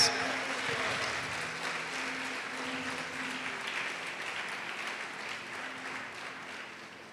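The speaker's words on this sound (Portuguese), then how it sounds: "Pode aplaudir" A church congregation applauds in a steady, moderately quiet wash of clapping that holds evenly for several seconds before easing slightly, with no voices standing out.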